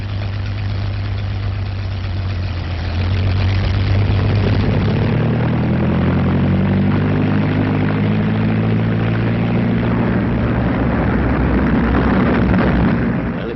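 A propeller test plane from a 1939 British film revs up for takeoff, a loud, low droning engine roar with rising and shifting pitch that swells after a few seconds and carries on steadily, with no talk over it.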